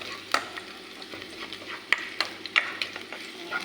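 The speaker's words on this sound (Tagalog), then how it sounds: "Igisa na natin yung bawang." Garlic sautéing in a hot pan, a soft steady sizzle punctuated by several sharp clicks and scrapes of a utensil stirring.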